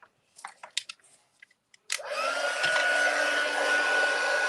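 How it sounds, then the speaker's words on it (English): After a few light clicks and taps, an embossing heat tool switches on for an emboss resist collage and blows steadily and loudly, a close, continuous whooshing hum that lasts to the end. "And we're going to bring in our heat tool."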